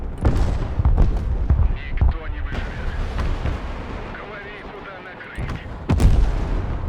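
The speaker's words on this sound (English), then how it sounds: "A massive explosion in the central courtyard, taking out something." Explosions in the war video game Broken Arrow as a castle courtyard is demolished: a run of booming blasts and sharp cracks with rumbling debris between them, loud and close.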